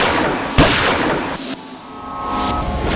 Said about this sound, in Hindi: उसने सरेआम रागिनी को 2 गोलियां दाग दी।